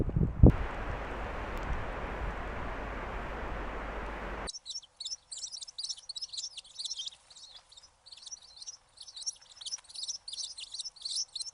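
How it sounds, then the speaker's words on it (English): A bird chirps in Banff National Park: a rush of wind noise gives way to repeated bright, high chirps and tweets from a fairly near songbird in quiet open air, with no talking. "There's a bird."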